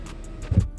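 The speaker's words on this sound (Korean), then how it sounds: "창문 열면은 지금 밖에서 이 정도 소음이 들리는데" Steady broadband outside traffic noise through the open window of a moving Hyundai Nexo in Japan, with a brief low rumble swelling near the end, no voices.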